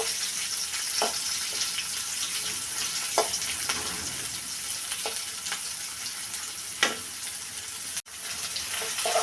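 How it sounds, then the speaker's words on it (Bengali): Onions fry in hot oil in a wok, a steady broadband sizzle running throughout with a few soft stirring knocks, close and alone without talk. "পেঁয়াজ ভেজে নিচ্ছি।"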